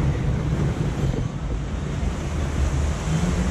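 Water from the waterfalls on the Jungle Adventure water ride at Energylandia rushes in a steady, loud broadband roar, mixed with wind buffeting the microphone, continuous and without speech.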